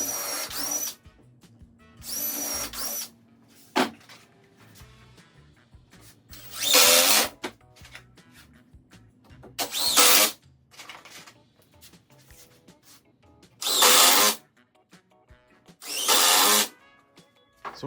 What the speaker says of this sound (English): also what I'm doing is I'm pre-drilling